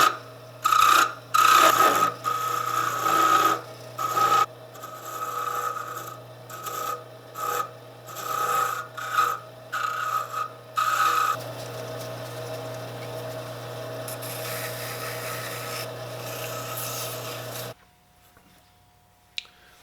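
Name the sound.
wood lathe turning a Christmas tree decoration with square tool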